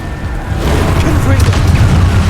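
A booming blast from the Confringo fire spell in Hogwarts Legacy, a loud rumbling burst that swells and holds, with a voice speaking over it.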